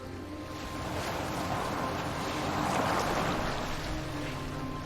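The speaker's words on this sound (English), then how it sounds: "Okay, I guess we're getting on a boat." A Viking longboat moves across open water in Assassin's Creed Valhalla, with a steady rush of waves and wind swelling and easing across the clip, with no talk over it.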